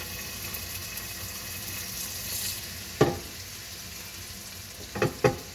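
Prawns sizzle in a hot oiled pan as a steady, fairly quiet frying hiss, broken by a sharp knock near the middle and a pair of clattering knocks near the end, with no talking.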